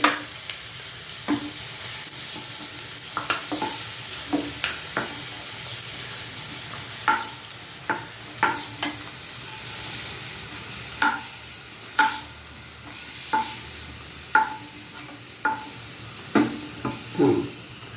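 Dry fish curry masala fries in a pan with a constant oily sizzle, while a spoon scrapes and stirs it in irregular strokes. The strokes come sharper and more frequent toward the end, and no one speaks.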